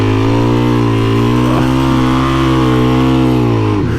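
A Suzuki DRZ400E dual-sport motorcycle idles loud and close with a rough, steady engine note that briefly rises in a short rev near the end, with no voices over it.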